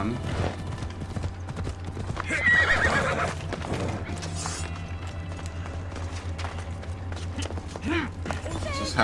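Horse in the Assassin's Creed Odyssey video game, with steady hoof clip-clop and a loud whinny partway through over a constant low game hum, while someone talks intermittently.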